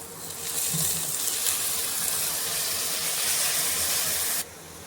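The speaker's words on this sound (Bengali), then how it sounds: "এখানে আদা রসুন ভালো করে ভেজে নিয়েছি।" Ginger, garlic and green chilli paste frying with onions in a pan, a steady broadband sizzle with a hissing, steamy texture holding level for several seconds before dropping suddenly near the end.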